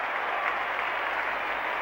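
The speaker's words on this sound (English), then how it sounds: "The crowd was too noisy." A large stadium crowd at the 1968 VFL Grand Final between Carlton and Essendon roars and applauds in a steady, dense wash of noise.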